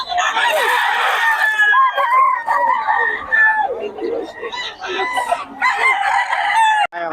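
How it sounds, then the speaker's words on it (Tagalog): A fighting rooster crows repeatedly over a busy cockfight betting crowd, with people talking and calling out bets around it throughout. "Manok ni Boss Eric, solid oh."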